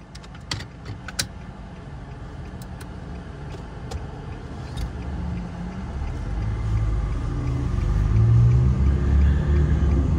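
A car driven by a beginner on a lesson drive rumbles steadily from inside the cabin, with a few clicks and taps early on and the engine and road noise swelling louder toward the end; no speech.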